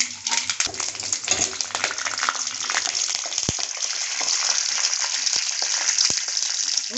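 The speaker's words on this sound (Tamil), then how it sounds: "இதில் இப்போ கருவேப்பிலை போட்டுக்கலாம்." Curry leaves go into hot oil with mustard seeds for a Tamil dried red chilli chutney, giving a steady close sizzle and crackle with occasional sharp pops.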